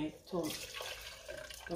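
Liquid soap base pouring in a gentle continuous stream close by, with a person talking over it, while making black soap.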